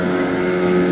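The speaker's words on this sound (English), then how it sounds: "So you can see it's a fine running engine." A Yamaha 130hp V2 two-stroke outboard engine runs smoothly at steady speed, recently serviced, giving a loud, close, continuous droning hum with no talking.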